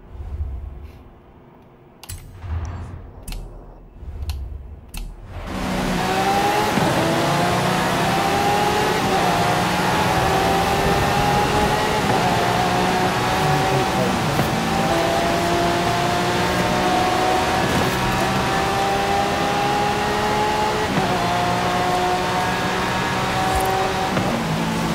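A Mini Goliath in Forza Horizon 5 runs a full lap, its engine droning loud and steady after a brief quieter start, with rising and falling tones as it shifts and holds speed.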